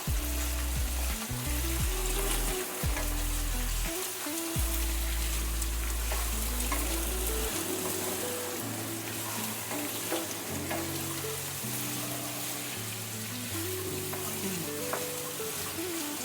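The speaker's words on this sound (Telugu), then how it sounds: "ముల్లంగి క్యారెట్ రెండు వేసేద్దాం ఇది ఒక రెండు మూడు నిమిషాలు ఫ్రై చేద్దాం" Radish and carrot fry in a pan with a continuous hiss and sizzle, joined by occasional stirring, while music plays underneath for the whole stretch and no one talks.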